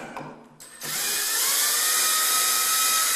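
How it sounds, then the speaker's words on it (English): A cordless power drill spins out screws from a door hinge, a brief rattle and click followed by a loud, steady whirring motor that holds its pitch close up. "We'll undo the screws like that"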